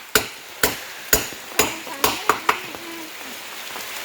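A hammer drives nails into wood on a bridge in heavy rain: about seven sharp, close strikes land in an uneven run over the first few seconds, then fade into a soft wet background.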